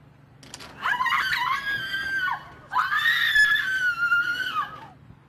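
A woman screams twice in long, high, wavering cries caught on a home security camera during an attack outside an open house, loud and fairly close over a faint steady hum.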